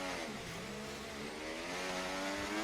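A Formula 1 car engine revs in the F1 24 video game at Monaco: a dense, high, buzzing whine holds steady and loud for the whole stretch, with no voices over it.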